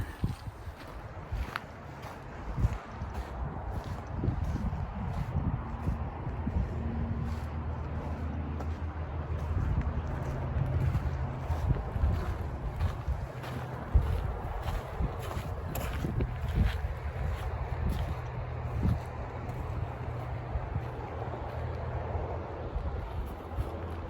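Strong, continuous wind buffeting outdoors on a trail at the bottom of Lehigh Gap, with low rumbling gusts and scattered crunchy footsteps throughout.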